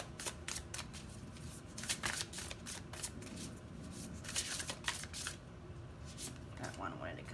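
Oracle cards shuffled and drawn for a card reading, a close series of quick papery riffles and snaps in bursts, with quiet talk between them.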